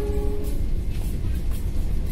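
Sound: Pramex Kutoarjo-Yogyakarta passenger train passing

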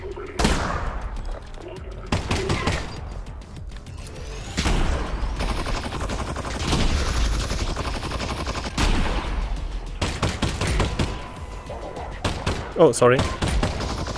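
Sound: enemy gunfire through a wall in the video game Half-Life: Alyx

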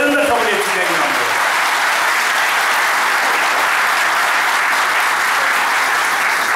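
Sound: audience applause during speech

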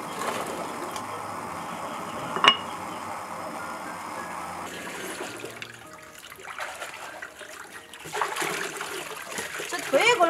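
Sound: water being added, splashing

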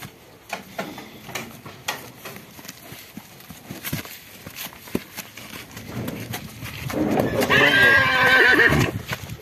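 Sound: horses neighing and hooves clip-clopping, mare and stallion

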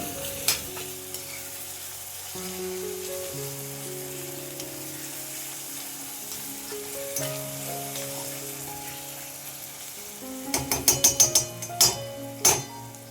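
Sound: stirring chopped tomato with frying onions in a pan

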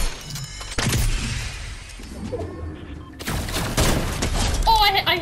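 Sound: heavy sniper shot in a video game

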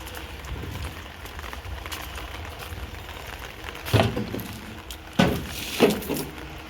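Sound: light steady rain

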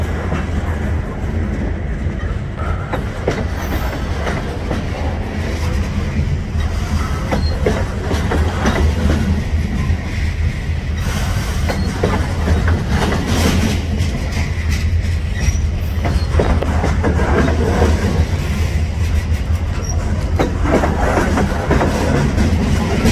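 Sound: freight train with boxcars passing

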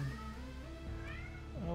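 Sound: cat meowing

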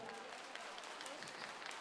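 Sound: audience applause for two dancers

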